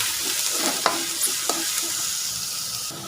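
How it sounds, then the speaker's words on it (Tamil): Garlic and onion fry in a pan for a radish-leaf stem dish, giving a steady close sizzle with a few sharp clicks of stirring. "நல்லா அந்த பூண்டு ஃப்ரை ஆகுது வெங்காயம் போடாச்சுங்க"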